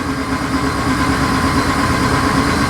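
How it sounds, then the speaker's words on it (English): A 2012 Ram 2500HD with the 5.7 engine cranks without starting, giving a steady, loud, droning churn that never catches or revs up. "we're going to confirm the condition by cranking it"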